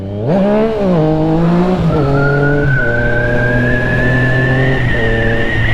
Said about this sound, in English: the amount of spinning. My back tire is bald as fuck